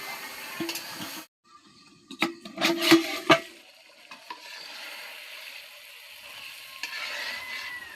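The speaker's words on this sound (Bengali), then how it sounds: "ভালো করে কষিয়ে এর মধ্যে পটলটা দিয়ে দেব। হালকা নাড়াচাড়া করে" Pointed gourd stirred into prawns in a frying pan, a soft sizzle with a few sharp scraping clatters of a utensil against the pan, near and fairly quiet.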